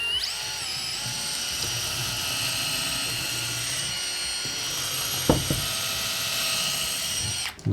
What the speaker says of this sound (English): let's try maybe some pilot holes for some smaller screws